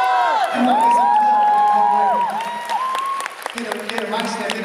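Audience applause at a Chinese Spring Festival gala, a dense burst of clapping mixed with shouts and whoops that is loud at first and eases off while voices carry over it.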